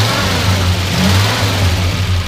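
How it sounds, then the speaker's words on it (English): A 1960 Plymouth Fury engine runs loud and close, its low rumble swelling as it is revved a couple of times before settling back. "we'll go ahead and start it up. Let you hear it run. Want to rev it up a little bit."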